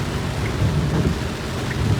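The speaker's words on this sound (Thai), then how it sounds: "สายฝนก็ตกลงมาอีกแล้ว" Heavy rain pours steadily outdoors near a flooded school, a dense continuous wash with low rumbling underneath, loud and unbroken for the whole stretch.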